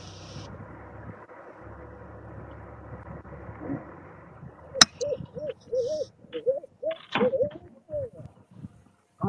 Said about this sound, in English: I heard the owls.